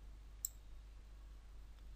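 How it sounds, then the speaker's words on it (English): A single key click on a computer keyboard, one sharp faint tap near the start, then near silence with a low steady hum. "If I click on O button in the keyboard"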